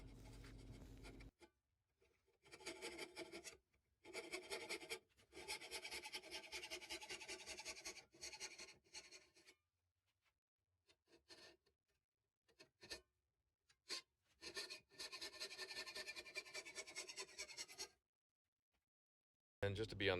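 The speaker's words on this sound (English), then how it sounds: "I think as long as you use an 18 tooth per inch or a 24 tooth per inch hacksaw, you can see here it goes pretty quick." A hacksaw with an 18 or 24 tooth-per-inch blade cuts spline stock for a handmade walnut and maple humidor, giving repeated bursts of rasping strokes with short pauses between them, close and fairly loud.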